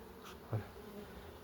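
Honeybees buzz faintly around a queen bee held in a small marking cage, a quiet steady hum with one brief louder buzz from a bee passing close.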